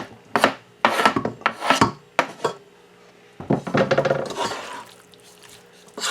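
A spoon scraping and stirring black olives and fresh tomato into a ground beef sombrero salad in a bowl, in bursts of rasping, rubbing strokes with short pauses between them, close and fairly loud.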